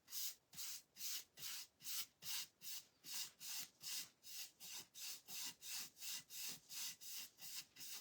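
A hand tool scrapes across a dry-brushed craft piece with white paint, giving about twenty steady, rhythmic rasping strokes, close and fairly loud, alone with no talk.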